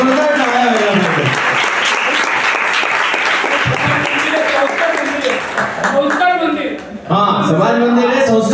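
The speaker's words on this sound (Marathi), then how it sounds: "तर या सगळ्यांकरता एकदा जोरदार टाळ्या व्हायला पाहिजे" Loud, sustained applause for a group of children at a Ganeshotsav community temple gathering, a thick wall of clapping from a crowd with voices and cheering mixed in, tapering briefly before picking up again.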